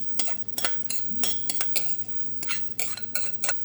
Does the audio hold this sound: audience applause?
no